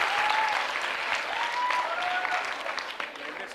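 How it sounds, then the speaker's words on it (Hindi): Sustained applause from a quiz show audience, a dense, fairly loud patter of clapping that eases slightly toward the end, with a faint tonal whistle or feedback line drifting through. "तालियां जोरों से बजाइए, जोरों से बजाइए, जोरों से बजाइए"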